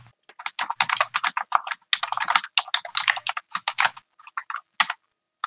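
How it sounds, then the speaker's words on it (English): Fast, uneven clatter of keys on a computer keyboard, close and crisp, in bursts with short pauses and a sparser patter toward the end. "what are you typing up? The Declaration of Independence?"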